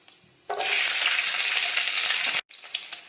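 Mustard seeds, urad dal, fenugreek and garlic fry in hot oil, giving a loud, steady crackling sizzle that cuts out briefly near the end and then resumes more quietly.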